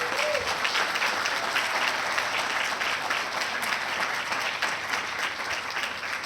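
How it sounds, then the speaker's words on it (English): An audience at a police awards ceremony applauds steadily, a sustained even wash of many hands clapping at moderate distance with no break for over six seconds. "Give this man a round of applause."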